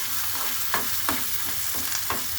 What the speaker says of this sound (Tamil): போட்டு வதக்குங்க. இதை இந்த பொன்னரமாக வதக்கணும்.